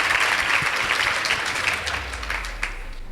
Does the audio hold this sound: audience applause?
yes